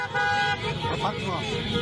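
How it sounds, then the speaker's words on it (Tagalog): Motorcycle horns toot briefly amid street noise and overlapping voices, a short honk heard over a busy, noisy background at a protest outside the Chinese Embassy in the Philippines. "bumusina habang dumadaan sa tapat ng embahada"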